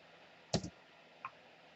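An Enter key pressed on a computer keyboard gives one crisp, quiet click, followed shortly by a fainter second tap in an otherwise quiet room.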